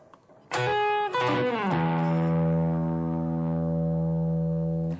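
A distorted electric guitar plays a short bluesy bending lick, then holds a long sustained note that rings out alone.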